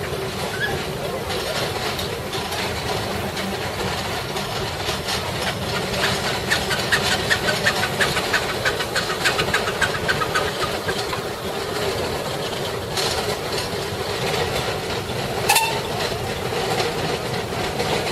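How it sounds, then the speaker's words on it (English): A Burrell Showman's steam traction engine chugs along at a steam rally, a steady mechanical running rumble with clanking, heard at moderate distance amid outdoor crowd ambience. "another of our Burrell Showman's tractors coming along now"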